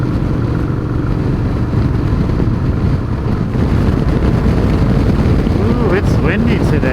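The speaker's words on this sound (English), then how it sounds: "Ooh, it's windy today. I bet that's coming through my helmet." Loud, steady wind roar buffets through a motorcycle helmet nonstop, with a low adventure bike engine hum beneath and a voice speaking faintly over it.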